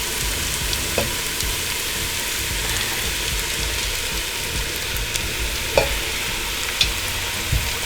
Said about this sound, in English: now we are going to add our rice. So just add it bit by bit.